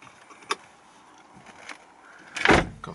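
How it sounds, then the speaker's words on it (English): Electric folding door mirrors on a Volkswagen Touareg 3.0 V6 Altitude TDI whir briefly with a short motor sound near the end, after a light click, close by and otherwise quiet. "Got folding door mirrors."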